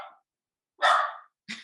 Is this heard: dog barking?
yes